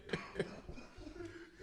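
A person coughs twice in quick short bursts, faint and close, followed by low murmuring on a quiet podcast recording.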